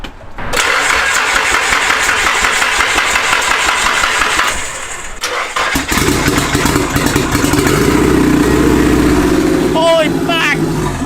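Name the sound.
Nissan S13 engine cranking and starting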